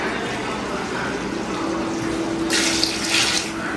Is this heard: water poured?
yes